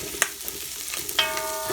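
Onions sizzle on the hot bottom of a pot, their sugars catching and burning. A steady, quiet frying hiss is broken by a few sharp utensil clinks, and there is no talking.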